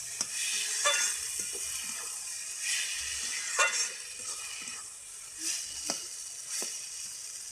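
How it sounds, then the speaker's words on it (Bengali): A bean and egg mixture seasoned with Maggi masala fries in a pan with a steady close sizzle, broken by intermittent scraping and clinking strokes of a spatula. "বন্ধুরা, একটু ম্যাগি মশলা দিয়ে দেবো। আপনারা চাইলে গরম মশলা দিতে পারেন। ভালো করে ভেজে নিতে হবে।"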